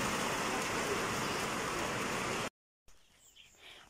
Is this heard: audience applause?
no